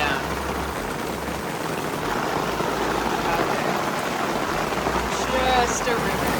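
Heavy rain pours down steadily on a campsite by Cottonwood Creek, a dense close hiss with a low rumble underneath and a few faint voices briefly audible.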